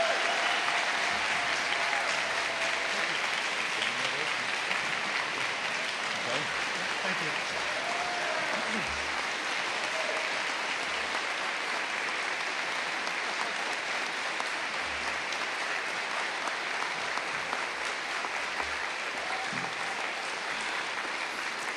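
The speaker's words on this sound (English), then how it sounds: "join me in giving Greg the send-off he deserves with a dragon round of applause" A large school audience applauds steadily at a farewell send-off for a departing staff member, dense sustained clapping filling the room at an even level throughout, with no break in the sound.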